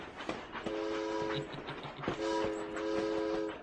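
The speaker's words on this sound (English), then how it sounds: "You ready for the train, my friend? Because it is coming." A train in a video game passes with two long blaring horn blasts over a rumbling, clattering roll, loud and close throughout, with no speech.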